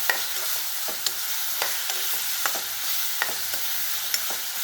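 Ginger, garlic and vegetables sautéing in a pan: a constant bright hiss of frying with regular sharp ladle scrapes and taps roughly every second, close and fairly loud, no voices.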